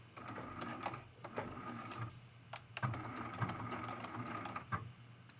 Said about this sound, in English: I will do a back stitch just to lock this in, especially since I'm using a little bit of a longer stitch